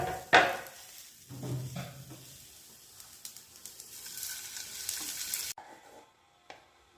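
Dosa ingredients sautéing in a pan give a sharp sizzle as they hit the hot surface, followed by stirring scrapes and a steady frying hiss, with no talk, ending in a sudden cutoff and a faint clink.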